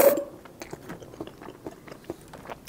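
Close, quiet chewing of fried mackerel in a spicy papaya salad with instant noodles, a steady run of soft wet crunches and bites with no talking.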